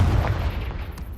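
A Confringo blasting spell from Hogwarts Legacy erupts in a low, rumbling explosion, one heavy boom that fills the short moment and fades slightly toward the end.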